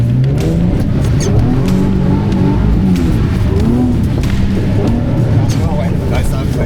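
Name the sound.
car engine accelerating at full throttle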